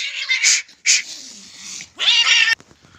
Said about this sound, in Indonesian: Ada kucing yang berkelahi.